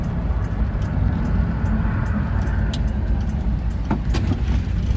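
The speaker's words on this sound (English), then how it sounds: "Car idles nicely at about 650." A 1974 Jaguar XKE V-12 roadster idling smoothly at about 650 rpm, a steady low rumbling engine drone close to the microphone, with a couple of faint clicks and no talking.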